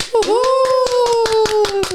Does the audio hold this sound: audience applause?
yes